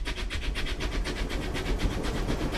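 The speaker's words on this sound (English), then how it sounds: "Here, we see a locomotive making its way through Moseley." A locomotive rolls along the railway through Moseley with a steady, dense rumble and a regular rhythmic clatter, heard alone and fairly close.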